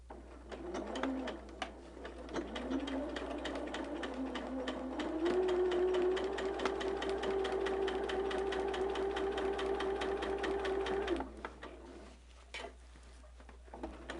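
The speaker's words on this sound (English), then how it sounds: "we're stitching from one fabric to another" Sewing machine stitching across from one fabric to another at a diagonal, bias-cut border corner being mitered: a steady, close whirring run of fast needle strokes that rises in pitch, holds for several seconds, then stops with a few scattered clicks.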